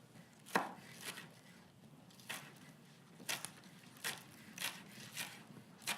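Knife chopping local green onions on a cutting board, a run of crisp, evenly spaced thunks up close with quiet gaps between them.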